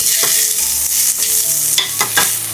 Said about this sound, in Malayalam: ഒരു മീഡിയം സൈസ് സവാള ചെറുതായിട്ട് അരിഞ്ഞത് ചേർത്ത് കൊടുക്കാം.